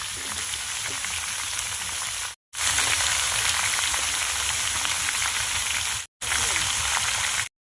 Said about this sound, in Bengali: সবজিগুলো অল্প অল্প করে দিচ্ছি আর ভালো করে ভেটে নিচ্ছি